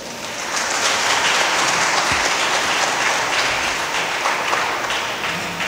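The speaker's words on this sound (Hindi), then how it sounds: "एक बार उनके लिए ज़ोरदार ताली बजा दीजिए" Steady, enthusiastic applause from a church congregation at a Catholic wedding Mass, thanking the parish priests, continuous and fairly loud across the whole stretch with no voices over it.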